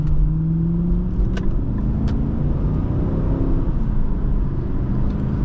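A 2008 Infiniti M45 V8 pulls hard through a 0-60 run, its steady low engine drone rising in pitch under heavy road rumble, heard close from inside the cabin with no talk.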